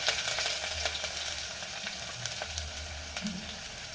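Chopped onion, ginger, garlic and green chillies frying in oil in a pan for methi charu: dense, continuous sizzle with soft stirring scrapes throughout, close and fairly loud, no voices.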